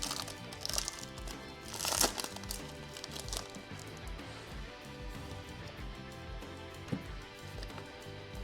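A Pokémon Paradox Rift booster pack wrapper is torn open and handled up close, giving bursts of crisp foil crinkling and crackling, loudest near the start, then softer rustling throughout.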